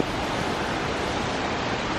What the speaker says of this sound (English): Plenty of water flowing today.